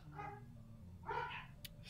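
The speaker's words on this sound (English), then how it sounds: "Sorry about the dogs, people." Dogs barking indoors, a couple of short yelps close together, fairly faint and heard alone over low background hum.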